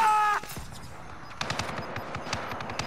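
Rapid gunfire rattles through a shooter video game: a quick volley near the start, then a run of sharp, closely spaced shots after a brief lull, loud and close.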